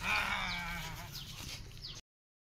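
Goats bleat a few times while grazing on grass at a rural home in Nepal, the calls fairly close and clear over a soft, steady background.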